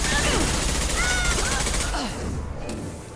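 Rapid automatic gunfire from the video game Mass Effect 2 rattles loudly for about two seconds, then fades into quieter game sounds, with a voice partly heard over it.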